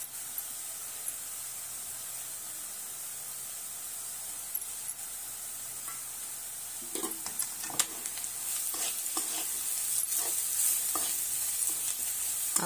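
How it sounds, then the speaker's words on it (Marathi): Spices sizzle in hot oil with fried onion in a pan while cooking a spinach and potato dish, a steady frying hiss with scattered scraping stirs that grow busier and louder in the second half. "त्यात आता आपण हे घेतलेले सर्व मसाले त्यात ॲड करू आणि तेही चांगल्या प्रकारे परतून घेऊ"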